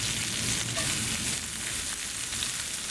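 Diced jalapeno pepper and onion hit a hot pan just emptied of pork chops, crackling and popping in a dense, steady sizzle that holds fairly loud for the whole moment.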